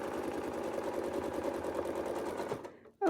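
A sewing machine stitches while ruler quilting on a Westalee Gateway, humming in a fast even rhythm for a few seconds before stopping, followed by a short knock.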